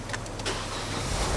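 A Mazda car engine running rough with a lean, fuel-starved mixture, stumbling and sputtering as it is revved; a close, steady engine drone with uneven bursts and no voices.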